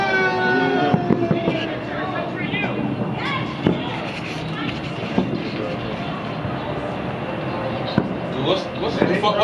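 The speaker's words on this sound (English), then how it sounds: "Look at those fireworks" Crackling bursts and sharp pops of fireworks going off repeatedly across the whole stretch, mixed with a dense background rumble and people talking over it.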